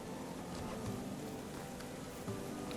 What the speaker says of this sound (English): now you'll get the soothing sounds of the rain